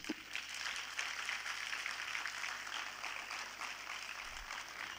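Faint, sustained applause from an audience at an international environment olympiad closing ceremony, a steady wash of clapping throughout without any voices.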